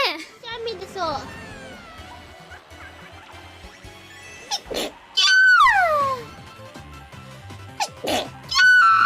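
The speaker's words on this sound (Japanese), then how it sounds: "くしゃみでそう。" A VTuber sneezes during a live stream: several sharp, bursting sneezes and cries, mixed with childlike high-pitched voices and chatter at close range.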